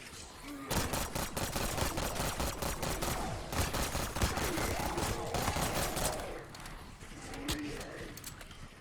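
Rapid full-automatic gunfire from a weapon in Black Ops 6 Zombies, a dense continuous burst of shots running for several seconds, loud and close, with game effects beneath and a brief pause near the end.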